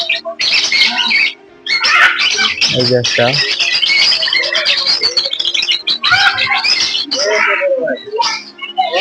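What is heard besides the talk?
many birds calling at a safari park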